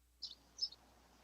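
Birds chirp twice in the background, faint high tweets spaced a moment apart over quiet room hiss, with no voices.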